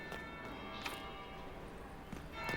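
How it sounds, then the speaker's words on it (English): A bell rings in the video game Dragon Age Inquisition, with faint separate strikes spaced across a quiet background. "That would be the second bell."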